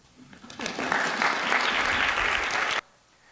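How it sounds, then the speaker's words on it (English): An audience at a physics-of-cooking lecture bursts into applause, a dense burst of clapping that starts quickly, holds steady for about two seconds and cuts off abruptly, with no talk over it. "You're all supposed to clap."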